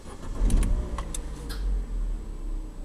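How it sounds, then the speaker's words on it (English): A Vauxhall Combo LPG van engine starts up, first with brief clicks and jingling, then a rough low idle rumble close by, with no talking. "So I'll start the van."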